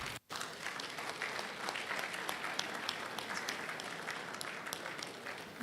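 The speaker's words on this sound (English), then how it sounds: "please, let's give Are a sounding applause." Applause from a lecture audience at the 25th June 12 lecture of the Oodua People's Congress, a steady continuous clapping of a large crowd, fairly faint and distant, after a brief gap at the start.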